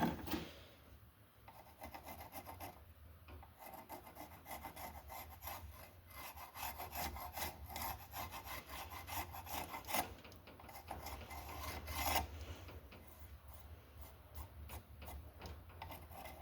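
A soapstone marker is drawn along a steel throwing-knife blank to mark a center line, making repeated dry scraping and rubbing strokes, close and steady, with no talking.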